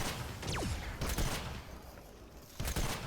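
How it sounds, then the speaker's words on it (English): Gunfire in Fortnite Save the World, with a sniper rifle in use: a few sharp broadband shots, one near the start and a loud pair near the end, over a busy game background. "I should use my sniper."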